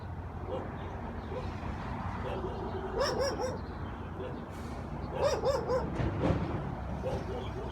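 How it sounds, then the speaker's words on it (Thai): Several short dog barks ring out around the middle and again toward the end, moderately close, against steady outdoor background noise on a home property beside a field of NK 6253 corn. "หมาที่บ้านเห่าฮะ"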